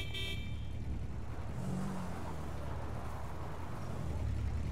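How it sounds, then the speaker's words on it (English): A steady car engine drone in GTA V runs throughout, with a short tonal horn-like burst at the start and a slight rev building toward the end. "I wanted to hear the rev"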